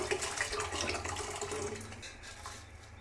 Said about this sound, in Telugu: ఇప్పుడు డైరెక్ట్ వాటర్తో నేను అందులో పోసేస్తా వాటర్తో పాటు బియ్యం పోసేస్తున్నామండి మనం